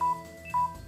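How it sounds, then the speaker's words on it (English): A phone sounds a low battery alert: two short, clear electronic beeps about half a second apart, moderately loud over a quiet background. "And that's my phone making noises."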